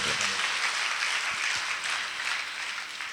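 Hands clapping in praise to God at a Christian prayer gathering make a steady, dense applause that fills the whole span, moderately loud with no pauses.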